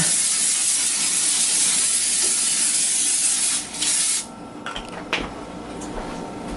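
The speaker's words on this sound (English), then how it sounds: "my open cooking spray is over here. Yep. All right. So we'll go ahead and spray that down." Cooking spray hissing onto a baking pan for fries, a steady pressurized spray lasting several seconds, then stopping, followed by light clinks of the pan.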